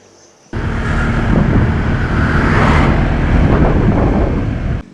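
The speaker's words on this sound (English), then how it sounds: "we're just driving along the road" A car drives along a road in Bali, with a loud, steady rumble of engine and road noise. Wind buffets the microphone and no one speaks.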